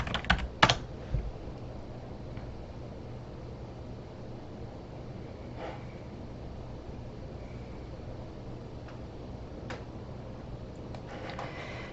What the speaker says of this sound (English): I'm just going to type Wireshark